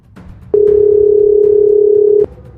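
A telephone tone sounds as a call is placed, a single loud steady beep lasting under two seconds, bracketed by faint clicks and low room noise, with no voices.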